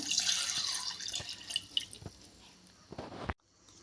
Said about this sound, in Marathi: आता त्यामध्ये दूध घालूया